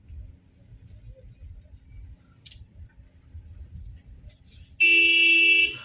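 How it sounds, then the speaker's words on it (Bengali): A four-wheeler car coming up from behind on a local road at night, heard first as a low engine rumble and then as a sudden loud, steady horn blast near the end. "এবারে পেছনে কি চার চাকা আসছে নাকি?"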